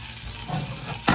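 Chicken browning in a hot pan gives a close, steady sizzle, with a brief louder burst of frying at the end.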